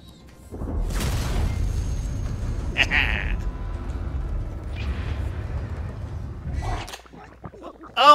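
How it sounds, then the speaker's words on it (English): A flashbang grenade goes off in a video game with a sudden bang, then a long low rumbling ring that holds for about six seconds before cutting off, with brief vocal sounds over it. "Now let's do flashbang."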